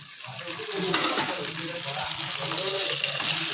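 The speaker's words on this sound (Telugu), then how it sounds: "బాగా అటు ఇటు ఇటు మిక్స్ చేసుకోవాలి" Curry leaves and tomatoes fry with green chillies in a pan for semiya upma, a loud close sizzle with scraping stir strokes throughout and a faint voice murmuring underneath.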